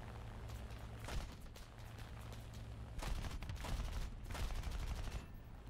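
Heavy gunfire in War Thunder, with repeated bursts of shots and explosions from several directions forming a dense, continuous barrage that grows louder toward the end.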